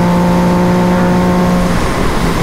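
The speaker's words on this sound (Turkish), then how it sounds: "araçların yanından geçerken çıkardığı sesi bir dinlesenize. Vav diye geçiyor bak." A Yamaha MT-09 motorcycle riding past other vehicles gives a loud, steady engine drone with a sustained tone that shifts near the end, all up close and with no voices.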